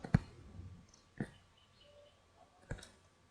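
A computer mouse clicks a checkbox in fee-management software, giving three quiet, crisp clicks spaced about a second apart against near silence.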